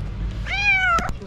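A tabby cat gives one close, clear rising-and-falling meow, loud and alone, followed by a couple of brief soft clicks.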